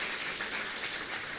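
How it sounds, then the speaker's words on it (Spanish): A church congregation at a Sunday service claps briefly, a short faint burst of many hands blended into a soft even patter. "aplauso, gracias."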